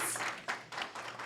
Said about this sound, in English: Let us give another applause to all of our honorees.